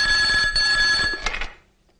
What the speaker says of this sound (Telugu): నర్సింగ్ గారికి ఫోన్ చేసి